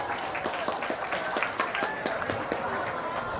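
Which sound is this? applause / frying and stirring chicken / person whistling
applause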